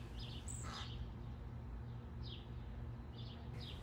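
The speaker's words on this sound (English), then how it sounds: "if you can hear that high-pitched sound, those are the cedar waxwings" Faint, thin high-pitched cedar waxwing calls, a few brief whistles repeated at intervals over a steady low background hum.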